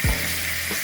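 Kielbasa drops into hot shimmering oil with a brief low thump, then a steady close sizzle and crackle that carries on without talk.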